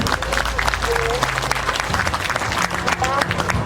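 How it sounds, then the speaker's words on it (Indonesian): An audience at a closing ceremony applauds the Governor with steady, fairly loud clapping from many hands, accompanied by a low hum and some voices underneath. "Tepuk tangan untuk Bapak Gubernur."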